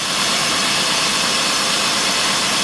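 A Honda Accord V6 with an ignition-coil misfire runs rough, giving a loud, steady, broadband engine roar with a rumbling low end that holds without a break and no talk over it.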